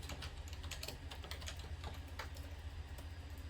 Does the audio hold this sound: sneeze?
no